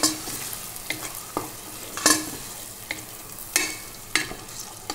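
Tomatoes frying in a pan with potatoes, spices and fenugreek leaves, a soft continuous sizzle punctuated by sharp scraping stirs of a spoon roughly every half second to second.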